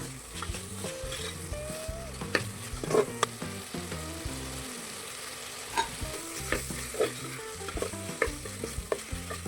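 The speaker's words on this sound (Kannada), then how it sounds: "ಎಲ್ಲನೂ ಹಾಕಿ ಚೆನ್ನಾಗಿ ಫ್ರೈ ಮಾಡ್ಕೊಳ್ಳೋಣ." Minced mutton keema with coriander powder and spices fries and sizzles in a pan, a constant close crackle broken by repeated scraping stirs of a spoon, with no one speaking.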